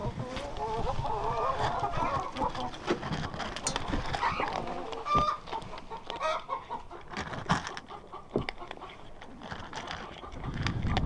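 Chickens cluck and squawk nearby, joined by scattered scratching and shuffling noises.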